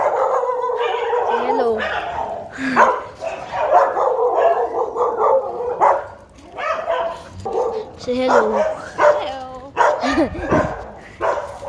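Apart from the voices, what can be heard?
dog barking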